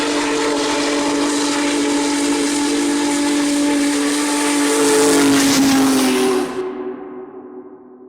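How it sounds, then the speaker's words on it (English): The Union Pacific Big Boy, a giant operating steam locomotive, sounds its whistle loud and close. A sustained, reedy, chord-like blast rides over roaring steam hiss for several seconds, then stops abruptly, leaving the steam to fade. "becoming the largest and most powerful operating steam locomotive in the world."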